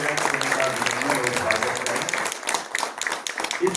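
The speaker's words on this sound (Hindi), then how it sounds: "उनके लिए जोरदार तालियां बजाएं।" Crowd applause at a civic gathering in Mount Abu about keeping the hill station clean: dense, loud clapping filling the room for nearly four seconds, thinning slightly toward the end, with voices faintly mixed in.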